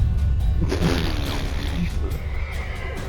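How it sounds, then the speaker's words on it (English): In The Witcher 3, a horse neighs and kicks amid continuous game audio, with a shrill whinny rising over a rumbling background and faint hoof sounds nearby. "The horse kicked me."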